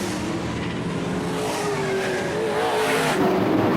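Modified race cars roar around the Lakeport, California track in a North State Modified Series race, one car running loose, with a sustained engine drone and tires squealing and skidding through the turn.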